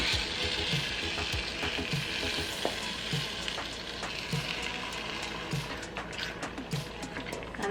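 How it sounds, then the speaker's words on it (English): Coconut milk poured over chickpeas in a pot on the stove, giving a steady close frying sizzle with soft stirring sounds and faint periodic low knocks throughout, no speech. "So now we're adding the coconut milk."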